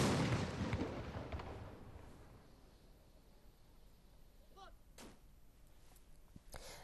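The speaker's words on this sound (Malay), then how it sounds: "Lepasan 12 das tembakan meriam di Taman Haji Semuda Omar Ali Saifuddin dilaksanakan oleh anggota polis Tentera Angkatan Bersenjata Diraja Brunei ABDB." Ceremonial twelve-gun cannon salute fired by Royal Brunei Armed Forces military police at Taman Haji Sir Muda Omar Ali Saifuddien. A heavy blast rumbles and slowly fades over several seconds, followed later by a couple of fainter, sharper distant reports.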